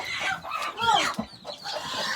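Young chickens kept in boxes give brief, high cheeping and clucking calls, a few quick overlapping peeps at close range over low background noise.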